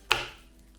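A knife strikes a cutting board once as garlic is cut, a single crisp close chop that quickly fades to quiet.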